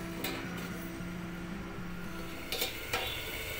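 Onions sautéing in hot oil for an egg and capsicum dish give off a steady low sizzle, with a couple of brief scraping stirs of the spatula against the pan near the end.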